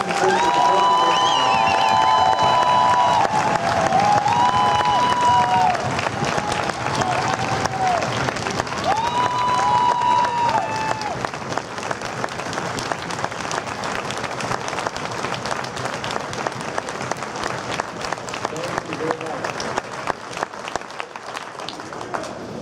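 Loud, sustained standing ovation from a concert audience at a high school marching band show, dense clapping and crowd noise filling the whole stretch, with brief sustained band tones near the start, then easing slightly but continuing steadily.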